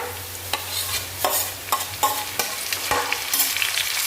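Tomatoes sauté in a pan with browned onion and ginger-garlic paste for egg biryani. A loud, close sizzle is broken by repeated brisk spatula strokes about every half second.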